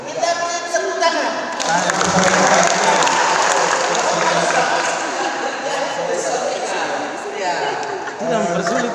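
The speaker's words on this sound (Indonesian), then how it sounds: "Kita beri tepuk tangan." A youth church gathering breaks into loud sustained applause mixed with crowd chatter and some cheering, filling the whole stretch with hands clapping close by.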